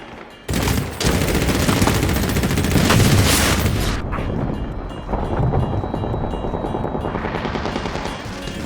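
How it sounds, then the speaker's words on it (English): Heavy gunfire and an RPG blast from the Medal of Honor Warfighter video game come as dense, loud bursts of rapid shots and booms, followed by a rumbling tail with more scattered fire, and no voices. "Bullets and RPG sound"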